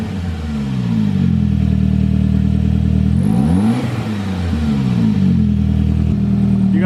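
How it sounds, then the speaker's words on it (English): A 1999 Saab 9-3 fitted with a crossflow intercooler and blow-off valve revs repeatedly, its engine note sweeping up and down in several loud, close pulls, with a brief airy hiss from the valve midway. "Wait, rev it. Let's hear it blow off."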